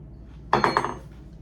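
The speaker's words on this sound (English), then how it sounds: "I'm gonna keep stirring it" A utensil clinks against a pot of homemade salsa while stirring: a short cluster of three or four bright metallic taps, close and fairly loud, then quiet.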